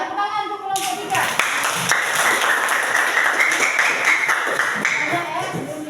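Classroom group claps for a presenting team in a teacher training session, a dense burst of applause rising after a spoken line and fading out, with voices talking over it.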